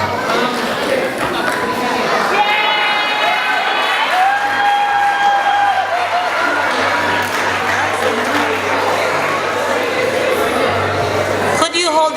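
Audience at a school graduation commencement ceremony, a broad wash of crowd cheering and scattered clapping with children's shouts and a chime, continuing steadily under announcements from a speaker.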